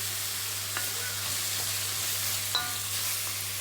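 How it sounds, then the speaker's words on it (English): Beef stir fry sizzles steadily in a pan over medium heat, a continuous frying hiss with a few soft scrapes and clicks as the meat is stirred, moderately close and without any talking. "keep stirring this until the beef is light brown"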